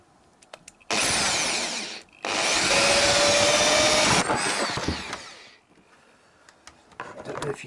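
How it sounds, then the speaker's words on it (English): A power drill bores into a seized bolt on a Yamaha XJ900S motorcycle, giving two loud, close whining bursts, a short one and then a longer grinding run of about three seconds that trails off. "I put more grips on the actual bolt to stop it spinning because I'm going to drill it."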